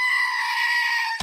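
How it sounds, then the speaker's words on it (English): A screaming goat sound effect: one sustained, loud, shrill bleating scream that holds steady for over a second and then cuts off abruptly. "I don't want to hear that stupid screaming goat"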